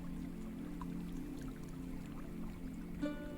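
Steady rushing flow of a nearby stream, a continuous low wash of water heard alone and evenly throughout, with no talk over it.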